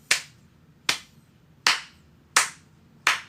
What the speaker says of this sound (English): Slow clap for the dice, my friends.